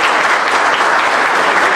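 Dense audience applause at an anniversary celebration hall, loud and continuous clapping from many people that fills the short span evenly without any voices.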